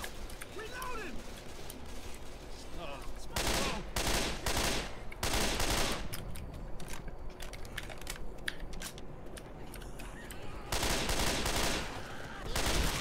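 Gunfire from Left 4 Dead 2 co-op play, bursts of shots in several loud clusters over continuous action noise, with voices talking over it.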